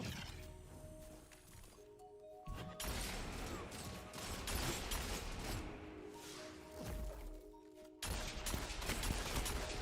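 Bursts of weapon fire in the sci-fi shooter Destiny 2 crackle in short clustered volleys between quieter gaps, with layered game effects and abrupt loud onsets.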